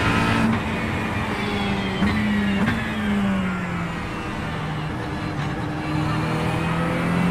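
Mazda race car engine droning steadily at Summit Point in a racing video game, a continuous loud hum with slight pitch shifts of revving and gear changes throughout, no voices.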